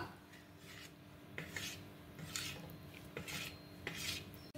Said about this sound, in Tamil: ஈரமில்லாத தட்டில் மிளகாத்தூள், கரம் மசாலா, பொடி உப்பு, மஞ்சள் இது 4 போட்டு கலந்துக்கலாம்